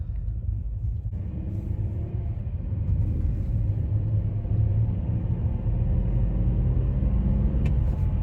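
A BMW car drives along with a steady, low engine rumble heard from inside, the drone swelling slightly a couple of times as it pulls through the gears.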